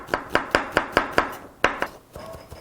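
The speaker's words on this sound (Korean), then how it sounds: "양파를 다져보도록 하겠습니다." A knife finely minces onion on a cutting board, about a dozen sharp, evenly spaced chops close by, pausing briefly before lighter taps trail off.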